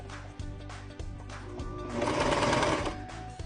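A coverstitch sewing machine runs through fabric, its motor whirring in short bursts at first, then settling into a steady, louder stretch of rapid stitching before easing off, close and with no voices.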